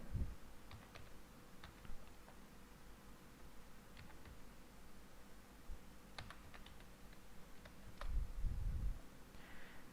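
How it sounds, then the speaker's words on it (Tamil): Typing an NIC number on a computer keyboard: scattered light key clicks in short bursts over steady background hiss, with a louder rustling thump near the end. "ஒரு என்ஐசி நம்பர் ஒன்று நான் உங்களுக்கு டைப் பண்ணி காட்டுறேன்"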